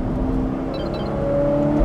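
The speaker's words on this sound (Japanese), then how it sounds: "もう3000回転超えたぐらいからめちゃくちゃ気持ちいい音がしますね。" A Ferrari F8 Spider engine revs through an aftermarket exhaust, a near, steady rising drone over a couple of seconds.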